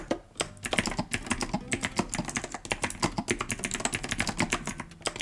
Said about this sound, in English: Do you like clacky keyboards? Let me know. I'm just gonna type, just random.